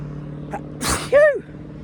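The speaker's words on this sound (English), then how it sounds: "as soon as I return to Penzance, the sneezes come" A single sharp human sneeze, close to the mic, with an intake of breath and then a burst, heard against a faint steady background hum.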